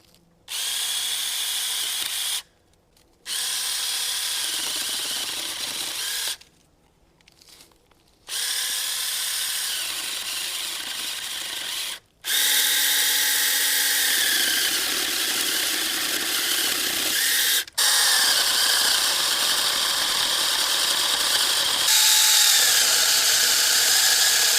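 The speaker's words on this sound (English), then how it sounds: "So I'll let her go ahead and cut off some limbs off this tree." Sainlogic 6-inch battery mini chainsaw cutting limbs off a tree, a high steady motor whine in several bursts with short pauses, growing louder in longer runs toward the end, close by and with no talking.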